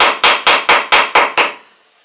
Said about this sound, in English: it seems like I'm cutting more into the wood than I am in the fiberglass